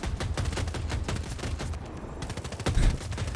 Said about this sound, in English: this 30mm cannon it just finds whoever's there and it kills them